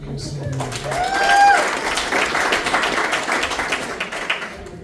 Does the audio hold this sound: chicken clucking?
no